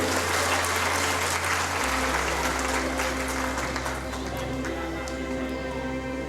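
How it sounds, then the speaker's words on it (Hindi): Loud, steady applause from a seated audience at a wellness company launch seminar, sustained dense clapping with a low hum underneath, filling the hall without pause. "इसके लिए मुझे लगता है हमारे मैनेजमेंट और कंपनी के लिए जोरदार ताली तो होनी चाहिए"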